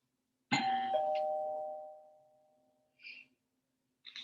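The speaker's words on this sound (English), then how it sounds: "Always scares me when I hear a doorbell." A single two-tone doorbell chime rings out clearly in a quiet room, its ring fading slowly over about two seconds, followed by a couple of faint brief noises.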